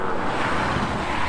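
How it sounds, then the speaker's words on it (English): Passing car traffic outdoors gives a steady broadband roar of road noise, loud and continuous over a brief stretch with no speech. "I wonder if this noise from these cars is going to be causing that bigger problem"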